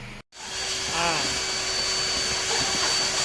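A vacuum cleaner sucks dust from behind the dashboard instrument panel of a Toyota Vigo during air-conditioning repair, starting abruptly after a brief cutout and then droning loud and steady with a whining motor tone, with a brief voice underneath.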